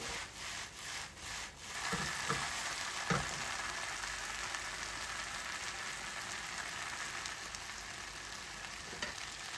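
Okra (bhindi) frying in a karahi, a continuous bright sizzle that swells after a quieter start, with occasional scraping stirs, no talking.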